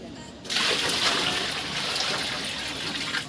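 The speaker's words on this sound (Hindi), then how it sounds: "एज अ प्रूफ मैं अब पानी डालने जा रहा हूँ" Water pours from a bucket into an air cooler, starting abruptly as a loud, close splashing gush that continues steadily after a brief quiet moment.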